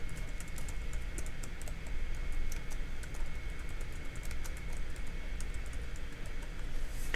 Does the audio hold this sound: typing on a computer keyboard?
yes